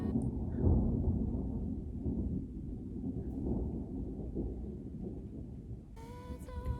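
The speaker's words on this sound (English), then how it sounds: "I'm so surprised by this thunder right now" Distant thunder rolls as a long, low rumble that swells and fades, with a brief sharper noise near the end.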